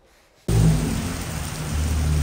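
Heavy rain pouring down in Northern California starts abruptly and continues as a dense, steady hiss with a low rumble underneath, close and loud.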